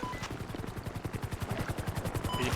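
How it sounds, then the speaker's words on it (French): A helicopter in Grand Theft Auto V on a FiveM server gives a steady, fast rotor thumping that keeps a constant rhythm and grows slightly louder toward the end, with no talking. "Il y a un hélicoptère, attention les gars."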